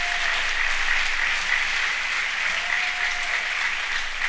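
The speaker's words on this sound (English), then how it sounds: "How about a round of applause" An audience gives a steady round of applause at a civic gathering in Mount Dora, the clapping even and continuous throughout without any voices.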